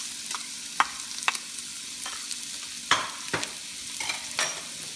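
Onions frying with ginger in a hot pan for pork binagoongan, a close, steady sizzle broken by sharp scrapes and stirring knocks at irregular intervals, with no voices.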